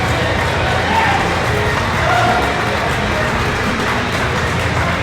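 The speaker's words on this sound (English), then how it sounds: "the crowd applauding Kenzie Paige's effort" Crowd applauding and cheering at a live wrestling match in Nashville, a steady dense wash of clapping and noise from the arena audience with a commentator talking over it.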